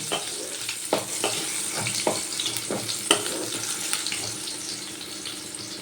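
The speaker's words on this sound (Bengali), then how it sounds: "এবার আমি আলুগুলো একটু ভালো করে ভাজা ভাজা করে নেব লাল লাল করে" Long-cut potato strips fry in oil for a tangra fish curry with potato and eggplant. A steady, close sizzle is broken by occasional clatters of stirring, with no one talking.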